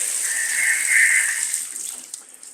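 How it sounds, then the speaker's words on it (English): Water gushes steadily from a shower faucet in a renovated apartment bathroom, a loud hiss right after the tap is turned, tapering off slightly toward the end. "this is where you turn on the water"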